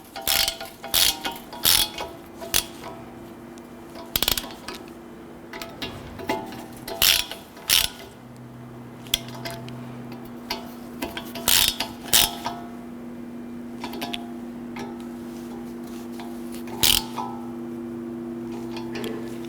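A hand ratchet snugs down the screws on front brake dust shields of a 1992-1996 Toyota Camry, close and sharp, with bursts of rapid clicking separated by pauses under a steady low hum.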